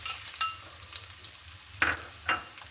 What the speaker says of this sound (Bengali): দিয়ে দিচ্ছি তেল তারপর দিয়ে দিচ্ছি পেঁয়াজ কুচি